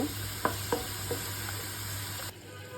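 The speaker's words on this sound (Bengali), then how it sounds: "এখন ভালো করে কষাবো মশলাটা।" Spice paste fries in a pan under a steady low sizzle, with a few sharp scraping stirs near the start before the sizzle settles and continues alone.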